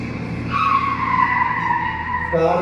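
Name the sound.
vehicle braking to a stop, stage sound effect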